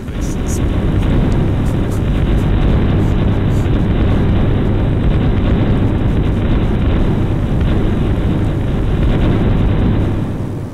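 Loud, continuous rumbling blasts and roaring noise fill a video game scene as an enemy land crawler is blown up, like sustained explosions with a dense, booming wash throughout.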